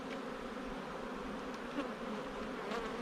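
Honey bees hum steadily over a brood frame during a hive inspection, a dense, continuous close-up drone with individual bees flitting past now and then, no talking.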